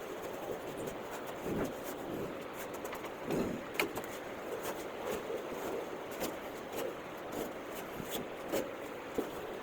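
A cloth cover pulled off an air cooler makes close, soft rustling and rubbing swishes in irregular bursts against a quiet room background.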